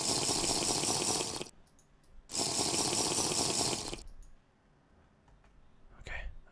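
In Minecraft, water is scooped up in two loud, rushing splash bursts separated by a short pause, then only faint clicks and a small final splash remain.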